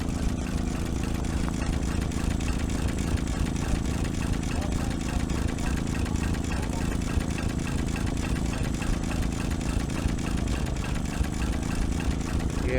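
Tractor engines at a tractor show rumble and idle together, a continuous low mechanical drone with faint rattling throughout, no talking.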